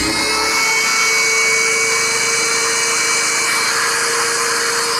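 A 7.5-amp, roughly 900-watt vacuum cleaner runs on a Generac GP3300i generator, giving a loud, steady high-pitched whine and rush with a low engine hum underneath, continuous throughout.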